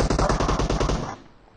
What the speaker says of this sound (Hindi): आ गया गन शॉट क्या हो रहा है